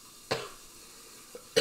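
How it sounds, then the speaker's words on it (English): A person coughs near food in a home kitchen: two short, sharp coughs about a second apart with a faint throat sound between them. "I'm not trying to purposely cough on your food."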